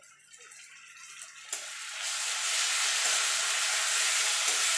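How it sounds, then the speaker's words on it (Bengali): Ginger garlic paste dropped into a pan of onions fried until reddish, a quiet start that turns into a loud, steady sizzle and hiss of frying, with no speech. "দিয়ে দেবো আদা রসুন বাটা।"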